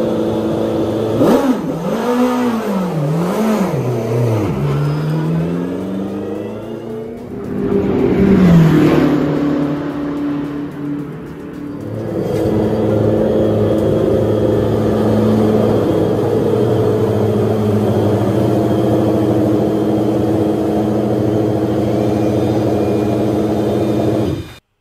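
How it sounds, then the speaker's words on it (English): Porsche Penske LMDH prototype race car engine revving hard, climbing and dropping through several sharp pitch sweeps, then a brief burst and a long steady high-rpm drone, loud and close with no talk. "we got our first look and listen at the Porsche Penske LMDH Challenger."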